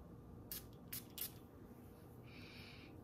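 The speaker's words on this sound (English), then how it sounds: "So let's go ahead and spray this." Athalia perfume is spritzed from its bottle in three quick, soft hisses over a low steady background hum, with a faint high tone near the end.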